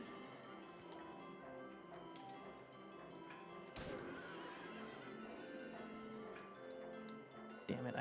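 Horses in the Silent Hill 3 video game whinny and neigh repeatedly, mixed with clip-clop hooves and thuds, fairly faint but distinct, with occasional voices in the background.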